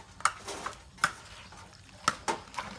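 A spoon scrapes and clinks against a pot while bamboo-shoot mixture is stirred, giving a handful of sharp, irregular knocks close by over quiet background.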